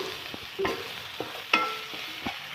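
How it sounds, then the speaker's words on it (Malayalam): Onions salted in a pan are stirred while they fry, giving a soft sizzle beneath a few spaced scrapes and taps of a spoon against the pan. "ഉള്ളിയിലോട്ട് ഇളക്കി കൊടുക്കാം"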